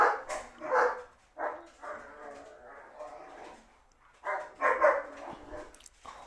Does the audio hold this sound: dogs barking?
yes